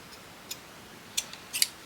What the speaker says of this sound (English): I'm going to just cut this in half